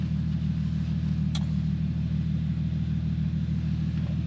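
Infiniti G37 V6 engine idling steadily after a throttle body cleaning, a constant low rumble with an even pulse that runs unbroken throughout, close by, with one brief faint click partway through.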